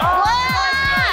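A nearby crowd cheering and shouting, like at a baseball game, heard as a loud swelling roar of many voices with rising and falling tones, close and filling the space.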